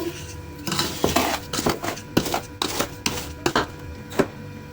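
Raspberries with sugar being gently stirred in a pot, a run of soft scraping and clinking strokes of uneven rhythm, close and fairly loud, with no talking.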